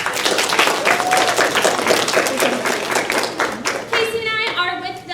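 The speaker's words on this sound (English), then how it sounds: "So guys, let's give them a big round of applause." Lively audience applause for a children's theater cast, a loud, dense crowd of clapping hands that carries on for several seconds, with voices and a cheer or whistle rising over it toward the end.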